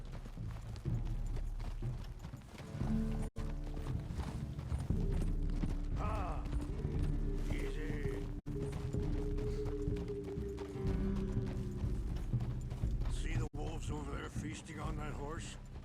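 Horse hooves clip-clop in a steady rhythm in the video game Red Dead Redemption 2, running continuously under game dialogue and background music, with brief mechanical clicks.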